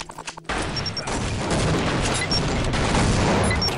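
Shotgun blasts in the game Team Fortress Classic, a loud dense burst of booming shots after a few quieter thumps at the start, with continuous battle noise behind.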